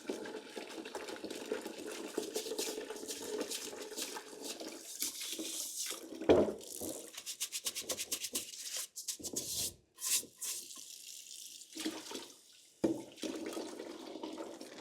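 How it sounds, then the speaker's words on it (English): Hot water splashes in a sink as a plant pot is dunked and scrubbed, producing soft, irregular sloshing and rubbing noises at close range, with a few sharper splashes and clunks and brief quiet gaps. "I'm filling up the sink with some hot water and bleach. So I'm just gonna dunk my pot in here and start scrubbing."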